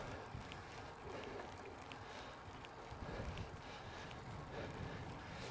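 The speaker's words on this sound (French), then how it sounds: "Là, il y a un petit vent en vrai qui fait du bien, qui rafraîchit en fait." Light wind on Mont Ventoux during a hot summer cycling climb, a steady broadband rush and rumble of air across the microphone with no speech.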